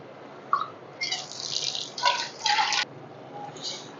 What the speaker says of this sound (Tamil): அதுலயே தண்ணியும் கொஞ்சம் ஊத்திக்கலாம்.